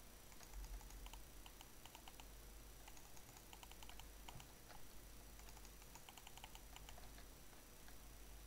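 Computer keyboard typing during a Minecraft session, a steady run of quiet clicks and key taps at moderate distance over a constant low background hum, no voices.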